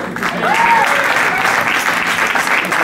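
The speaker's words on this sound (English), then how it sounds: "And Kerry Mitchell on guitar, give him a big clap" An audience at a charity show applauds a guitarist with a sustained burst of clapping from many hands, full and steady from start to finish.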